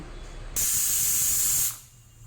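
A pressure cooker whistle bursts into a sharp, loud hiss of escaping steam during cooking of moong dal with potatoes, holding steady for about a second before cutting off.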